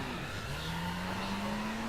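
Car engine in the racing game The Crew, a steady drone holding a rising tone as the vehicle drives and accelerates, continuous and close with no talk.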